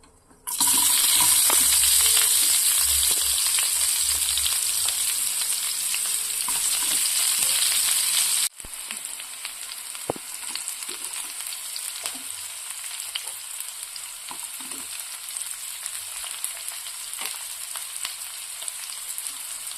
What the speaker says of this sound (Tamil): சோம்பு நல்லா பொரியட்டும்.